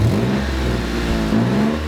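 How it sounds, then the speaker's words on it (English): A Lexus engine with a poorly patched exhaust runs and revs close by, a steady droning rumble with a raspy exhaust edge and a slight rise in pitch, with no voices. "Now you will hear a little noise. That's the poorly patched exhaust."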